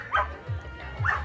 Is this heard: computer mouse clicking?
no